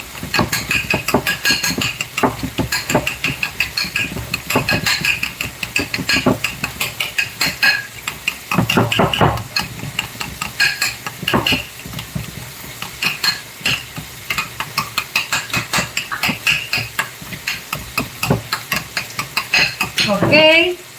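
Chicken fajita filling being pressed down hard in a frying pan, with steady scraping, clinking and sizzling throughout and a few louder knocks of utensil against pan.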